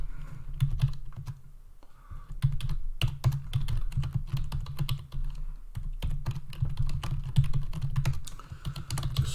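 Quick, steady clatter of a computer keyboard as a command is typed to install Python tools, with dense close keystrokes running nearly continuously and a brief pause partway through.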